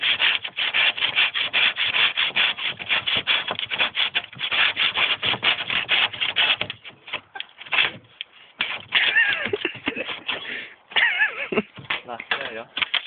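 A hand saw rasps through wood in quick, rough back-and-forth strokes, loud and close, pausing briefly midway before resuming in uneven bursts; people talk around the sawing.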